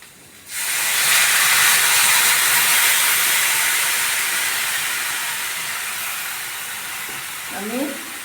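Water poured into a frying vegetable curry with drumsticks, eggplant, green banana, potato, carrot, radish, tomato and moong dal bori sets off a sudden loud, steady hiss of sizzling that slowly fades, with a brief voice near the end.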